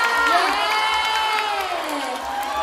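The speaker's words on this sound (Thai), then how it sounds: "ขอเสียงปรบมือหน่อยค่ะ" A crowd at the Industrial Fair Korat 2013 roars during a stage prize giveaway, loud sustained cheering and high shouting voices with little distinct clapping, filling the whole stretch close and strong.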